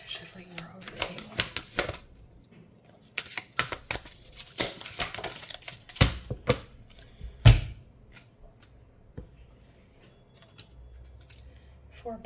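Tarot cards are shuffled and riffled in quick bursts of crisp flapping and snapping, with pauses between, close up on a table.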